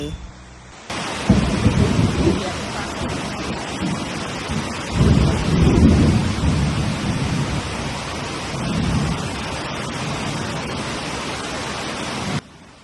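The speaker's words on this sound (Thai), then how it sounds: "ฝนเทลงมาบักคักนางเหล่" Heavy rain pours down in a steady loud roar, with deep rumbling thunder swelling several times beneath the downpour and no talk over it.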